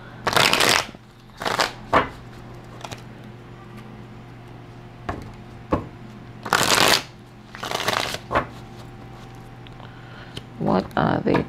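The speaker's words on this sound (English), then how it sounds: "Let's give these a shuffle." A deck of tarot cards being shuffled by hand in repeated quick riffling bursts, close and crisp, separated by short pauses across the stretch.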